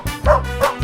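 Dog in a 3D animal video game giving two short, close, loud bow-wow barks in quick succession.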